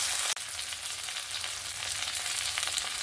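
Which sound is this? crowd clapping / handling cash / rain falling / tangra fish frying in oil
tangra fish frying in oil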